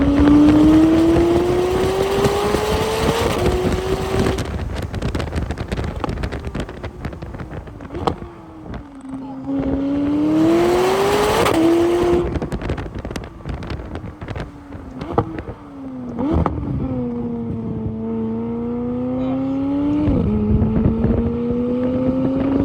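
A McLaren 600LT Spider with a titanium exhaust revs and accelerates through its gears, its engine note rising and dropping between shifts, loud and close with wind buffeting and crackles on the overrun.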